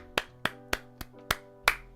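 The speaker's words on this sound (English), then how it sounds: "Everybody, clap for Eric." Six evenly spaced claps, crisp and close, ring out with short decays in a quiet room and no talking over them.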